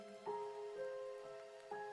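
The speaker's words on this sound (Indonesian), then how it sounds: "Sepertinya aku mendengar sesuatu di antara suara rintik air yang jatuh bebas dari langit." Raindrops fall on puddles, a faint soft patter with a few louder plinks, under a quiet, sustained tonal background.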